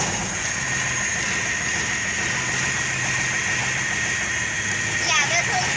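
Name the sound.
Cummins big cam diesel truck engine idling after cold start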